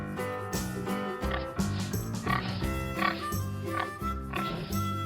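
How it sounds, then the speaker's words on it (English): A pig oinks in a children's farm animal sounds lesson, a series of rhythmic, nasal grunting snorts repeating in quick bursts, loud and close with no talk over it. "A pig."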